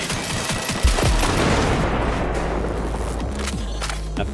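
SMG fire rings out in Cyberpunk 2077: a strong close shot, then a steady stream of fairly slow automatic rounds over a rumbling, dense battle backdrop with scattered impacts.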